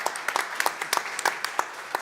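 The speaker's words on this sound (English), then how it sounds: "So a bit of a round of applause for them." Applause from the audience at a COP climate summit business event, a sparse round of individual claps with distinct sharp hits rather than a dense roar, fairly distant and moderately quiet.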